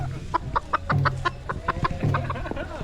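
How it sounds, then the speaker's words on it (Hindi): A chicken clucks repeatedly in short, rhythmic bursts, close by, with a couple of longer drawn-out calls mixed in. "भाई आपको ना एक मुर्गा दिखाता हूँ।"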